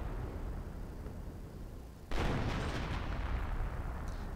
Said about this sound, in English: So I'm calling in more artillery on this area.